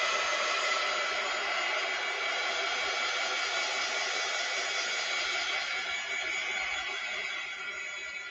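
A hair dryer blows steadily on a small plastic roller toy. The airflow is a close, even whooshing hiss that holds for several seconds and then fades slightly toward the end.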